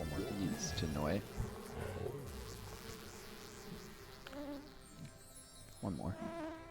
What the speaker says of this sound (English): Might even get a couple more bees to annoy it.